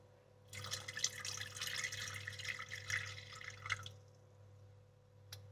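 Water poured slowly into a small pot for heating, a steady splashing trickle lasting a few seconds and then stopping, with a low hum underneath and a faint click at the end.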